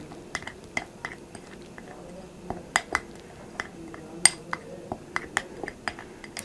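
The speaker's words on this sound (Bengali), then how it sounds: "এই 3টি উপাদান ভালোভাবে মিক্স করব।" A spoon stirs a powdered milk paste in a small bowl, giving repeated light clinks and scrapes at an uneven rhythm, close and fairly quiet with a faint murmur beneath.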